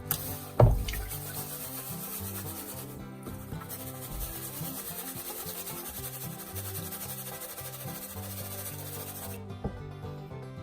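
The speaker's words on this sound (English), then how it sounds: "let's give this a scrub" Small gold pieces are scrubbed clean with steady, soft brushing and rubbing strokes that continue evenly and fairly quietly throughout, with one brief louder knock near the start.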